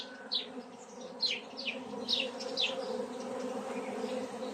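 Honey bees buzz at a hive during queen rearing, a soft continuous drone with individual bees passing close in short rising whines over several seconds.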